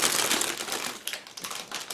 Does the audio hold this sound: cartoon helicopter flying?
no